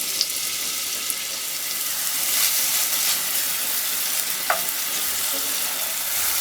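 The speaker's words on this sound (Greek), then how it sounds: "Θα ρίξουμε το ελαιόλαδο στο τηγάνι. Θα ρίξουμε και θα σοτάρουμε το κρεμμύδι." Chopped onion sautés in olive oil in a frying pan, a loud, continuous bright sizzle with crackling spits and a few sharper pops, alone with no voices.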